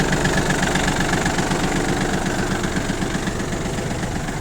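A YANMAR F-220 tractor fitted with a front loader idles close by, a steady low diesel chug with a rhythmic knock and constant vibration, with no voices over it.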